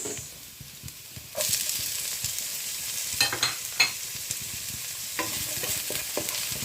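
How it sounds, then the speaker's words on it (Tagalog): Garlic and onion sauté in a pan for vegetable lumpia, a soft sizzle that swells louder partway through, broken by several scraping stirs and clinks, close and without talk. "igigisa ko muna yung bawang. And then, sibuyas."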